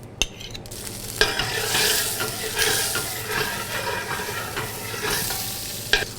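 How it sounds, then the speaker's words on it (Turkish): Butter sizzling as it hits hot oil in a pan, a loud close crackling fry that holds steady across the whole stretch, with a few brief clicks and no talk. "2 veya 3 yemek kaşığı tereyağı atıyoruz."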